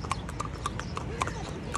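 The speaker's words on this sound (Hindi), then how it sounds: "ये देखो एक हाथ से वीडियो बनाऊंगा, दूसरे हाथ से घोड़ा चलाऊंगा।" Hooves of a ridden horse clip-clop in a steady, brisk rhythm close by, the sharp regular knocks continuing under outdoor background noise.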